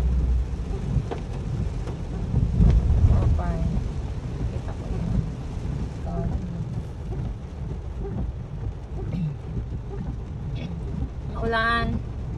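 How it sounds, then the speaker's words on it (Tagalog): Steady rain pours during a typhoon, a broad continuous hiss with low rumbling underneath, close and fairly loud throughout, while people talk intermittently over it. "Ulan na naman, no?"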